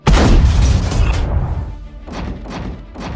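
Heavy booming blasts and crashing impacts of weapon fire in a Transformers cartoon battle, a dense loud barrage at first that thins into several separate thuds and bursts.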